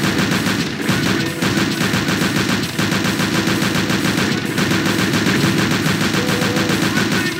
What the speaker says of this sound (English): pull out our chain gun, which is the MP40